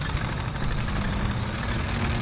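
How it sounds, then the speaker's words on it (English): A German Nashorn tank destroyer engine in the video game War Thunder idles continuously with a steady, low rumble, no change in pitch, dense and close, with no voices. "Unless it's just my fucking engine running."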